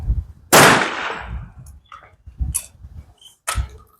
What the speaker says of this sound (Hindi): वो टारगेट को कॉल करेंगे और वो फिर उस पर फायर करेंगे